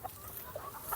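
Rhode Island Red chickens on a farm give short, close clucks, a few quick calls scattered across a brief moment over a steady background hum.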